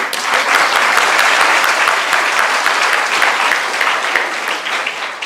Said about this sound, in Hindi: बजाओ बजाओ ताली।